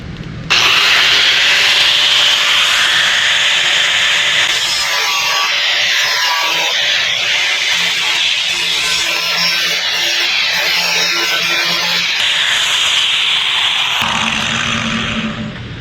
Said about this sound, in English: Now we need to use our grinder to notch those out like we did last time